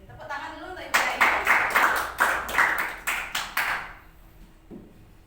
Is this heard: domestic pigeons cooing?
no